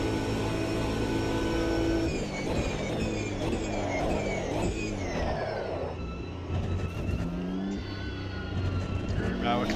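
A race car in Automobilista 2 at Monza drones along with shifting engine tones and squealing tyres sliding through corners, continuous and close, with someone talking over it.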